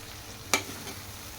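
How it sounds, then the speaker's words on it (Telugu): Okra curry is stirred in a pan, a single sharp scrape of the spoon against the pan over a soft continuous sizzle. "ఒకసారి మొత్తాన్ని కలుపుకోవాలి"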